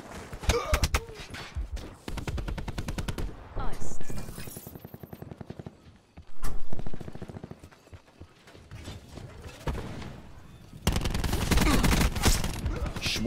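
Gunfire from Call of Duty: Black Ops 4 sounds in rapid automatic bursts and loud single shots, broken by short pauses and clanking weapon mechanisms, with heavy sustained firing near the end.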